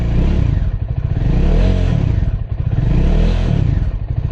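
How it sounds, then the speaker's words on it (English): Bajaj Dominar 400 motorcycle engine warming up after a spell of starting trouble, loud and close, pulsing through two long rising-and-falling swells of revving with a clattery edge and no speech. "warming it up for now"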